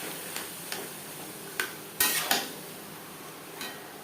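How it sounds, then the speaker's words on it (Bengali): Taro leaves are stirred with spices in a pan over a gas flame, giving a few sparse, light scraping and clinking knocks of a utensil against the pan at irregular intervals, fairly quiet and close. "কচুর শাক। মশলার সাথে বেশ ভালো করে মিক্স করে দেবো।"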